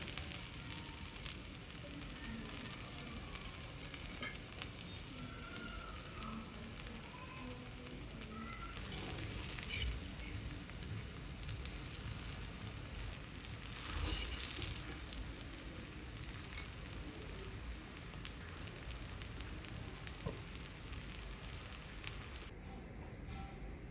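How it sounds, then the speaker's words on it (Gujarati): Frankie roti roasting in oil on an iron griddle gives a soft, steady sizzle, faint and even throughout, with a slight swell near the middle and a brief sharp tick toward the end. "આવી રીતના કરીને આપણે શેકી લઈશું થોડુંક આપણે તેલ નાખશું"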